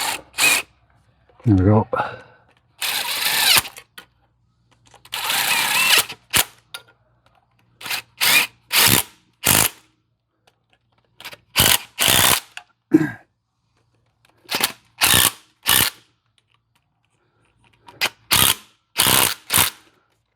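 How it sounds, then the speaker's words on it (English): A ratchet wrench torquing down bolts on a Mustang 4.6 V8 engine during a refresh, in repeated short bursts of rapid clicking separated by pauses, close and loud, with someone speaking briefly between them. "Now I'm going to go ahead and torque these down."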